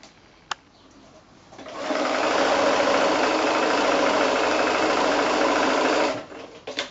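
A sewing machine runs steadily for about four seconds, stitching close to the edge of fat-quarter cotton fabric for a lotus bag, with a single click just before and quiet handling afterward.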